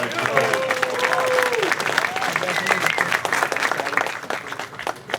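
A crowd applauds steadily with dense clapping throughout at an annual awards banquet, while a voice speaks over it briefly near the start.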